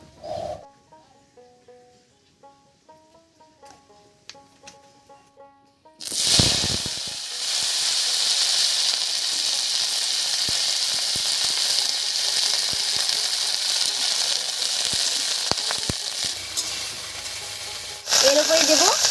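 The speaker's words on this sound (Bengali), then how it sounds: "এবার কড়াইতে সর্ষের তেল দিয়ে ফুলকপিটা হালকা করে ভেজে নেব" Cauliflower frying in mustard oil in a wok: a quiet start with faint scattered tones, then a loud, steady crackling sizzle that runs to the end and swells slightly in the last second.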